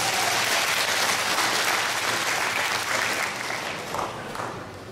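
Audience applause at a Chinese New Year gala vocal imitation performance, a dense, sustained wash of clapping from a large crowd that holds steady then tapers slightly toward the end.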